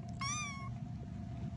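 A young feral kitten gives one clear, rising-then-falling meow near the start, close and distinct over a low steady background hum, then the room stays quiet.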